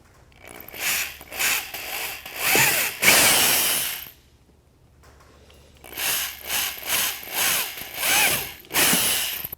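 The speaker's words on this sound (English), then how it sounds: "We're going to drill directly down through the holes into the stakehold pocket." A power drill whirs in close, loud bursts, boring through plastic truck bed rail in two runs separated by a short pause.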